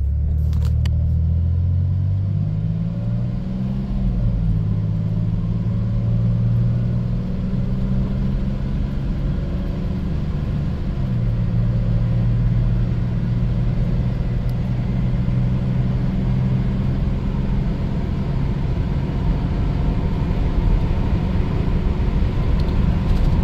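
A 1990 Dodge Grand Caravan LE with badly unbalanced tires cruising on a tar road, heard from inside as a loud, steady engine drone and road rumble with gentle shifts in pitch as it accelerates, continuous and without talk.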